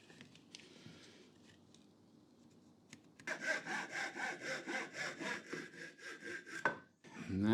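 A handsaw cuts a board while building a simple toolbox, starting after three quiet seconds with fast, regular close strokes, about eight per two seconds, then a brief pause and a final noise.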